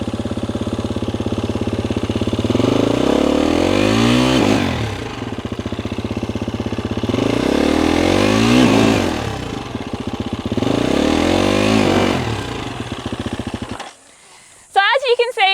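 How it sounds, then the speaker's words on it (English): A dirt bike engine runs close by and revs up and down three times in long, rising and falling swells, then cuts out as a person starts talking. "So I'll start the bike."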